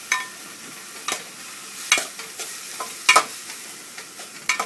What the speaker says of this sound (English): then the capsicum, which is cut into the small piece. Saute this for some time.